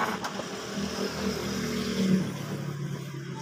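A 2021 Yamaha Mio i 125 scooter engine runs steadily during an inspection, a low continuous hum with a slight rise in revs midway, no talking.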